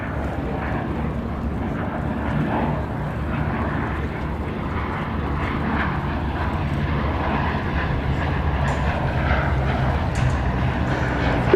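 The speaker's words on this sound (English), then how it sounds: "This one was originally built by Fairchild in Canada as a Bolingbroke, the Canadian version of the Blenheim." A Bristol Blenheim, built by Fairchild in Canada as a Bolingbroke, drones steadily with a loud, continuous piston-engine roar at Duxford, with wind buffeting the microphone throughout and no voices heard.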